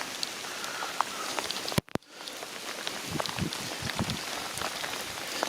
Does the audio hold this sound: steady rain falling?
yes